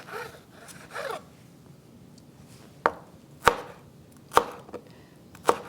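A knife cuts through an orange bell pepper on a board in four crisp, separate chops, preceded by softer rustling of the pepper being handled.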